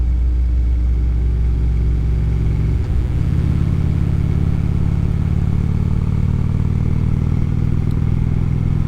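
Harley-style motorcycle with a stage 1 intake, full Vance & Hines exhaust and power duals header, its engine rumbling loud and steady throughout with a deep low-pitched idle and a brief blip partway through.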